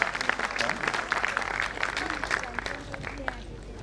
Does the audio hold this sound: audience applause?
yes